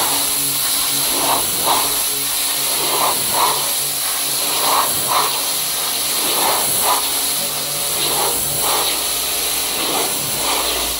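A GTM high-pressure washer with a brushless motor and aluminium pump, rated 3500 W and 190 bar, runs steadily close by, its loud, constant hiss and spray holding an even level with no talk.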